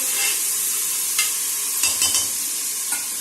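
Tomatoes sautéing for chicken biryani, a close hissing sizzle with a few short stirring scrapes, heard alone for a brief moment.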